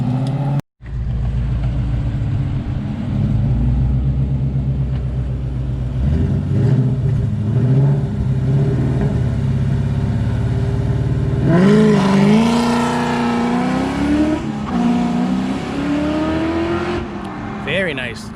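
A Coyote-swapped PBH-built Mustang notchback idles with a deep rumble, then revs and accelerates hard, pitch climbing in surges before backing off; voices talk faintly underneath.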